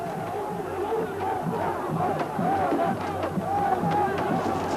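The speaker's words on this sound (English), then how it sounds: "Tens of thousands of protesters took to the streets in 8 South Korean cities" A dense crowd of protesters riots in the streets of Seoul in 1988, a constant roaring din of massed voices with scattered shouts and cries rising out of it, close and unbroken throughout.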